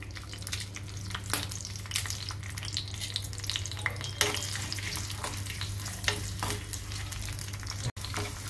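Tempering seeds, garlic and dried red chillies crackle in hot oil in a pan with a constant bright sizzle, while occasional sharp pops and stirring scrapes come through over a low hum.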